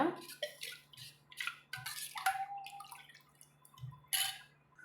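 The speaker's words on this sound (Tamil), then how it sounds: "இதில் தண்ணி வந்து சேர்த்து கலந்துக்கலாங்க" Water trickles and drips into a jar in short splashy bursts while making thuthuvalai mudakathan rasam, with a low steady hum underneath and clinks of a vessel.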